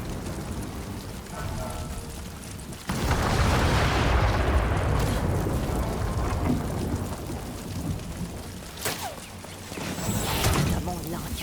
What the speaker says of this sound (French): Et là il y a un explosif dedans.